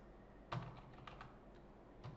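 Keys tapping on a computer keyboard while a router configuration is entered, with a sharper burst of strokes near the start and a few scattered taps after it, faint and without talk.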